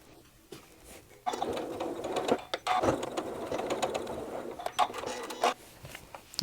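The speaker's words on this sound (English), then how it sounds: "we want to stitch on a diagonal across them just a couple times back and forth just to reinforce them" A sewing machine stitches diagonally back and forth across quilt corners, a steady close mechanical whir with brief pauses and rhythmic clicks.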